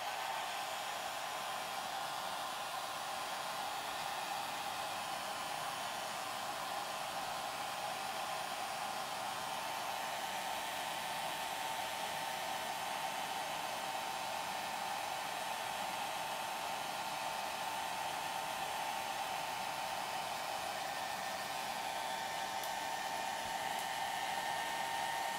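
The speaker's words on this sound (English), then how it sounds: "now I'm going to take my hair dryer and go over" A hair dryer blows a steady, unbroken whoosh over a wet watercolor painting for about twenty-five seconds, with no voices.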